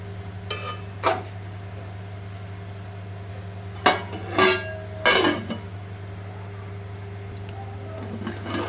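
A spoon scrapes and stirs Andhra-style chicken fry in a pan in a few short bursts, separated by pauses, over a steady low kitchen hum.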